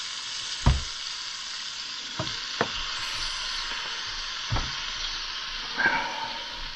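A nice big blob of butter melts in a pan on low heat at a snowy spring campsite and gives off a steady, quiet sizzle. A few soft clinks and taps break in at intervals, with no one talking.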